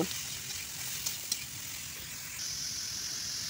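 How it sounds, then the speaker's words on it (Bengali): Kushi fries in a pan with a steady, faint hiss of hot oil, a couple of small clicks from stirring and a slightly brighter sizzle toward the end, no voices. "এখন এই যে দেখো কুশি ভাজি করে নিচ্ছি"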